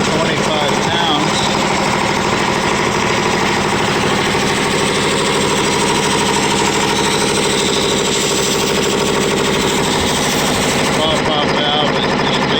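A Harbor Freight 145 psi twin-cylinder air compressor runs steadily and loudly for the whole stretch, a dense continuous mechanical drone with rapid pulsing, slow to build pressure, with a pop-off valve leaking.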